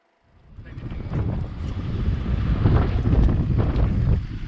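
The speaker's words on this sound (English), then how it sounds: "It's very windy today." Strong wind gusting over a microphone near a boat on the water in Malta, a loud rushing roar that rises and stays heavy throughout.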